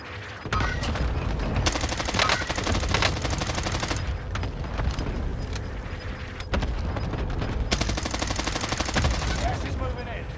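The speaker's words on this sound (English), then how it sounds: "Requesting an airstrike at this location." Heavy, sustained barrage of explosive impacts and rapid fire from a called-in airstrike in a video game, dense rattling bursts running almost continuously with brief lulls between waves.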